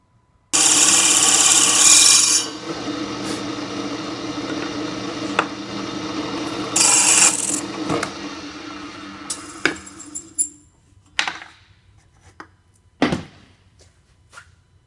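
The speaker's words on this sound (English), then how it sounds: "I'm cutting out the holes for the cup tin with the drill press" A drill press bores holes for a cup tin in two loud grinding bursts, followed by scattered knocks and clicks as pieces are handled nearby.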